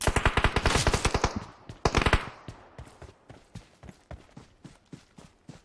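Automatic gunfire in the game PUBG, heard as loud rapid bursts of shots at close range, followed by a sparser run of fainter single shots.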